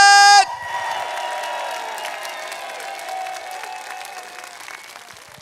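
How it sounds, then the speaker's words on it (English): A church congregation at a Sunday service bursts into applause and cheering, loud clapping with whoops from the room after a brief tonal note cuts off, gradually fading over several seconds. "Round of applause."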